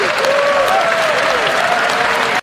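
Steady crowd applause, dense and loud, sustained without break for a couple of seconds before cutting off abruptly.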